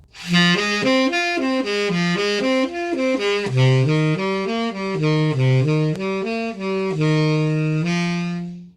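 Sustained voices singing a short natural minor progression on the five chord, several notes moving together in smooth held steps, ending on a long chord, no talking.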